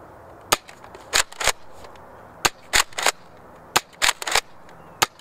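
A Nerf foam dart blaster fires in a series of sharp pops, including the Sling Fire and Rapid Glow models, about a dozen bursts spread unevenly over several seconds, some paired in quick succession, clear and fairly close.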